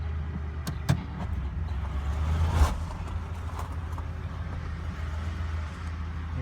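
A classic car's engine cranks and catches, a low steady rumble running throughout with a brief louder surge near the middle, close and alone without talk.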